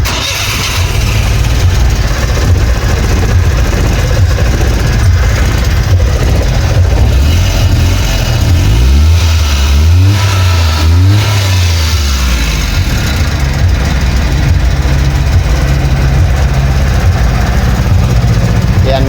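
A Suzuki Multicab Scrum engine that misfires and lacks power cranks, catches and runs loud and close. It idles roughly with a couple of revving swells partway through, and a steady mechanical drone continues throughout.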